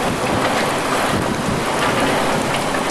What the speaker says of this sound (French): Ouh le vent de fou.